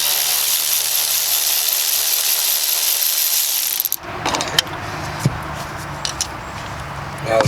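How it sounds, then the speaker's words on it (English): An electric ratchet loosening a 12mm bolt on the low-side suction hose AC line of a 2006 Nissan Altima gives a steady whirring buzz for several seconds, followed by scattered mechanical clicks and taps. "You can use a regular ratchet, but I'm going to use electric."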